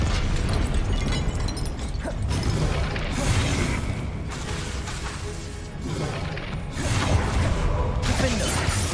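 Spell blasts and explosive bursts from a Confringo fire spell in the Hogwarts Legacy video game, dense and continuous booms with crackling debris over about nine seconds, layered over busy game combat noise.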